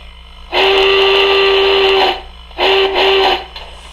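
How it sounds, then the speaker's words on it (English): Hancock three-chime steam whistle modeled on Union Pacific 3985, played by a Tsunami2 model train sound decoder: one long chord blast, a pause, then a shorter double toot, loud and clear over a faint hum. "Or there is the Hancock 3 chime Union Pacific number 3985, which is whistle number"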